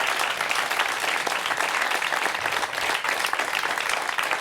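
An audience at a live stage event breaks into steady, dense applause that stays loud and continuous throughout, with no voices heard above it.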